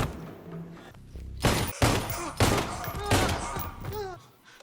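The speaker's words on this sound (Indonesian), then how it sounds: "Karena emang suara pistol itu nyaring itu." Pistol gunfire in a film scene: several loud, sharp shots crack out in quick bursts, each ringing briefly, with a faint background murmur between them.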